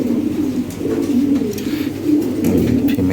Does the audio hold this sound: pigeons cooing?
yes